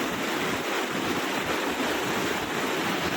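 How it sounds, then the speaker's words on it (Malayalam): Strong water flow over Koodalkadavu check dam in Wayanad, a steady broad roar of rushing water heard from nearby, unbroken and without voices. "വെള്ളത്തിന് ഒഴുക്കുണ്ടോ? അടിപൊളി ഒഴുക്കാണ്. നല്ല ശക്തിയാലാണ് ഒഴുകുന്നത്."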